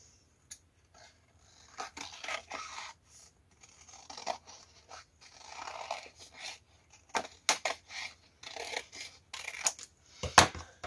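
Scissors cut a scrap of paper while a New Year greeting card is being crafted. Close, crisp snips and rustles come in irregular bursts separated by short quiet pauses, with no speech.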